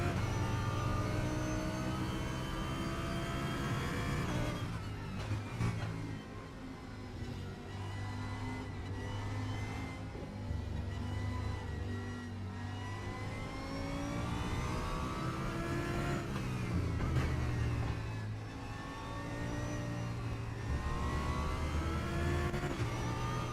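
Audi race car engine in a racing sim video game, revving steadily and loud throughout with rising and falling pitch as it accelerates and shifts, a continuous close-up drone with no talking.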